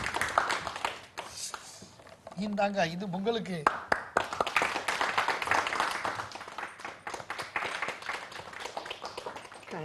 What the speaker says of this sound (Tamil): கண்டிப்பாக ஒரு மிகப்பெரிய கைத்தட்டல் கொடுத்துடணும் நம்ம.